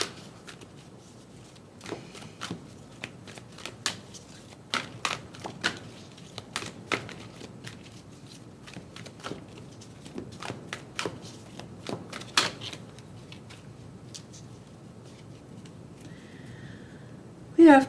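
Psychic Tarot Oracle cards being shuffled by hand, a quiet series of soft riffling slaps and taps at an irregular rhythm in a calm indoor space, with a brief louder rustle right at the end.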